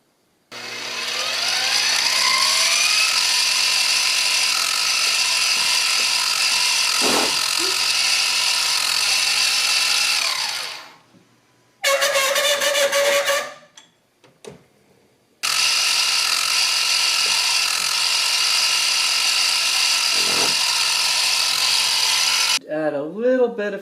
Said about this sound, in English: I drilled the holes just big enough